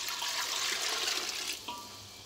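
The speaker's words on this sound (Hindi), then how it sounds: "अभी भी 1 बाउल ऐड कर रही हूँ इसमें यखनी का।" Yakhni broth poured into rice for pulao gives a steady, close rush of liquid that tapers off near the end, heard alone.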